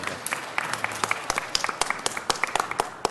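Audience at a city council meeting applauding to welcome a visiting mayor, scattered claps building into a brief round of clapping in a meeting chamber.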